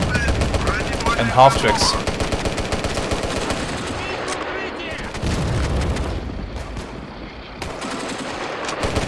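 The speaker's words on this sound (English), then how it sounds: "I'm simply suppressing them with machine gun fire" Machine gun fire from a BT-5 Mod. 39 tank in the World War II tank game Steel Fury: rapid bursts of loud gunfire with booming impacts, mixed with someone talking.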